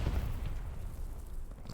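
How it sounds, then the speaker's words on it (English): A muffled low explosion booms in the Hell Let Loose match in Hürtgen Forest, a deep rumbling burst that decays quickly, moderately distant and heard alone. "Oh, that was just an explosion."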